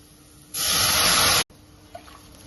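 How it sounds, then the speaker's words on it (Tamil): A steady rushing pour of tamarind water into a pan for radish sambar, about a second, loud and close, then stopping abruptly, followed by quiet background. "இப்போ புளித்தண்ணி இப்போ சேர்க்கலாம்"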